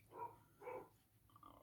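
A dog barks twice in quick succession, then lets out a short, softer whine or yip; moderately close, with no talking.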